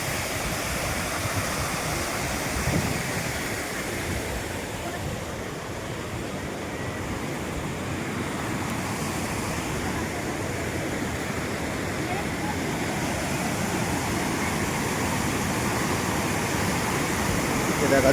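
A waterfall sends out a constant, loud roar of rushing water that stays steady and close throughout, with no break in the wash of noise.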